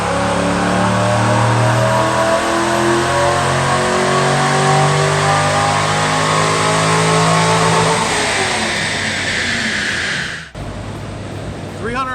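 A Corvette C5 Z06 with a modified intake manifold runs on a dyno, its V8 climbing in a long, loud, close rev that rises steadily for about ten seconds before cutting off abruptly into a quieter tail.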